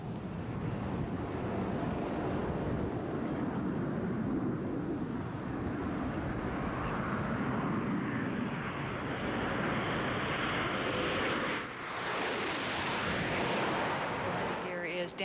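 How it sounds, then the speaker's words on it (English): Space Shuttle Discovery gliding in to touch down at the Shuttle Landing Facility, Kennedy Space Center, heard as a steady loud roar with wind-like rumble and rushing noise throughout, swelling and shifting near the end. "let's listen in as the shuttle comes down to the shuttle landing facility here at the Kennedy Space Center"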